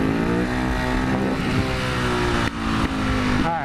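A supermoto motorcycle revs hard during wheelies, its engine holding a loud, steady high-pitched drone with a brief dip and quick rises in pitch, close and alone.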